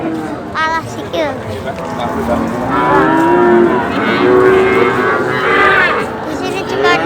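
Cattle at the Wirosari cattle market moo loudly and repeatedly close by, several drawn-out calls overlapping, over a busy crowd murmur with chatter.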